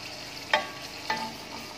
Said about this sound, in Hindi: और इसे हम लहसुन अदरक के साथ भूनेंगे